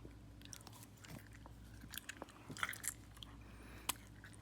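Gum chewed with the mouth open in a quiet close-up ASMR setting, giving soft wet smacks and squishes at an irregular pace, with a few sharper clicks and crunches standing out.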